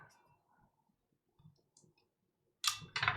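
A few faint, scattered taps as the top case goes onto a Foxlab Sandglass Ergo keyboard, followed by two sharp, louder clicks as it snaps into place, with no talking.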